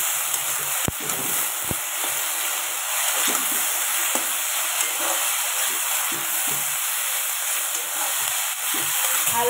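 Onions frying in a pan with salt and turmeric, a steady soft sizzle and hiss close by with a few faint clinks and stirring taps scattered throughout.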